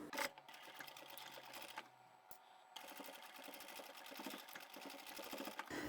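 A sewing machine stitching a simple fabric pouch for a mobile phone runs in a fast, steady mechanical whir, pausing briefly near the middle before starting up again, close and unaccompanied by speech.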